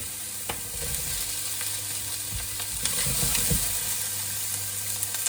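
A small red pepper hits a pan of frying curry and sizzles. The crackling is close and continuous, with a few stirring clatters and no voices.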